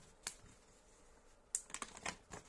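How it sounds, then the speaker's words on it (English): A resealable zipper on a flat-bottom plastic pouch pulled open by hand, heard as a quiet, close series of crisp clicks and crinkly rips, sparse at first, then bunched toward the end. "and open the zipper here"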